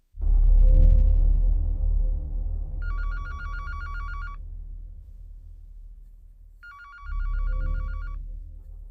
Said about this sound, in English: The phone rang 5 times before a groggy voice on the other end picked up.